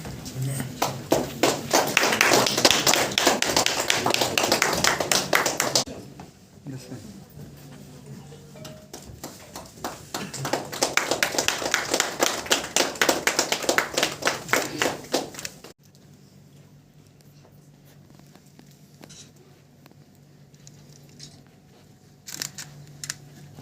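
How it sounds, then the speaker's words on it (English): Audience applause at an honorary doctorate ceremony in Bangalore, coming in two separate rounds of brisk clapping with a lull between, then dying away to quiet room sound with a few stray taps. "Give her a big round of applause."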